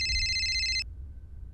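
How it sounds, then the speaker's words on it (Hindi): An incoming-call ringtone trills loud and close on a phone for most of the moment, then cuts off abruptly, leaving quiet room tone. "अरे, ये कोई अननोन नंबर से फोन आ रहा है।"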